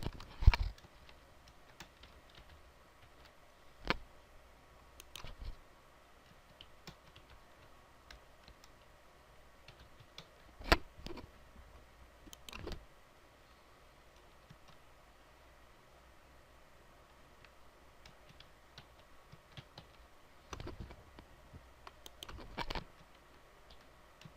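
Scattered, faint key clicks from typing on a computer keyboard come in sparse taps and short bursts over a quiet, low hiss.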